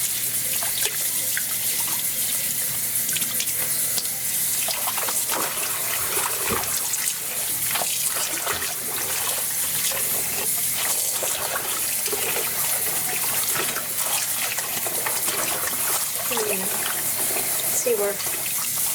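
Tap water runs steadily over hand-dyed cross stitch linen being rinsed of mango and watermelon fruit dye in a sink, a continuous close splashing wash that fills the whole stretch with small drips and knocks.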